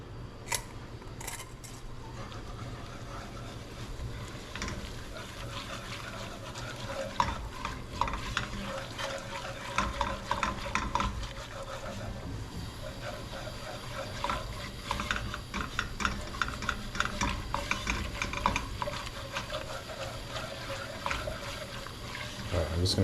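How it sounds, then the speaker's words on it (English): Spice mix frying in vegetable oil while being stirred for a root vegetable curry, giving a steady low sizzle through the clip with stirring scrapes and clinks over it. "I'm just gonna fry those spices for a bit"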